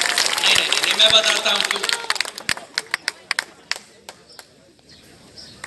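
Crowd at an election rally in Madhya Pradesh breaking into applause, a dense wash of clapping that thins into scattered individual claps, while someone speaks over the end.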